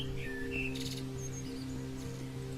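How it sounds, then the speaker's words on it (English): Birds chirp and trill in the video game Nevermind, several short high calls scattered over a steady low droning music bed, moderately faint. "And the birds are singing to us."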